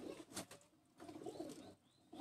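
An Imam Din breed pigeon coos softly on a rooftop, several short low coos in an uneven rhythm, close but faint, with no talking.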